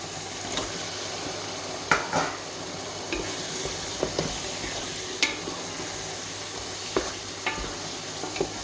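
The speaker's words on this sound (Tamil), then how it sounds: "சிக்கன் சேர்த்துட்டு நல்லா மிக்ஸ் பண்ணி விடுங்க மசாலாவோட கலங்குற மாதிரி" Chicken pieces are stirred into frying masala for Dindigul chicken biryani: a steady close sizzle with repeated scraping clinks of a spoon against the pot, no talking.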